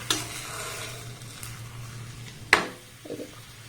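Soft semolina and ripe mango cake, made without sugar, being turned in a lightly oiled pan with two ladles: a low steady sizzle with faint scraping, then one sharp metallic clack of a ladle against the pan and a brief shuffling after it.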